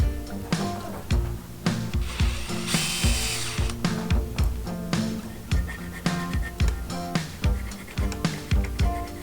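A hand drill grinds into a steel file being made into a dagger, in a steady repeating rhythm, each turn giving a ratcheting, scraping pulse, close up and continuous for several seconds.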